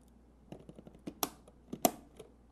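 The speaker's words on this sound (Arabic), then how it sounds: "تثبتهم كذا بعدين تضغط تسمع كليك" RAM module pressed into a motherboard slot while assembling an AMD Ryzen 3950X gaming PC, giving two sharp, close clicks after a few softer taps and fumbling knocks.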